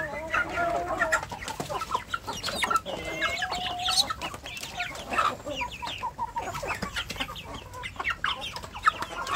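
Village chicks and hens clucking and peeping together in a small flock, busy continuous chatter at moderate distance with a few louder calls and no talk.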